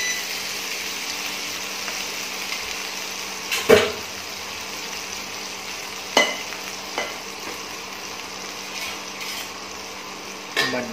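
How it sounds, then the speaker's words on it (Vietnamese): Chicken pieces fry in hot oil for a Vietnamese chicken curry, a continuous close sizzle broken by several sharp clatters and stirring knocks from the pan. "Rồi gà mình chiên gà xong"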